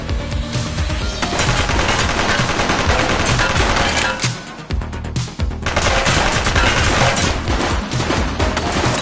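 A suspect fires a gun in the police video game The Precinct, with loud, continuous bursts of gunfire and rapid shots with booming impacts, dipping briefly before resuming at full intensity.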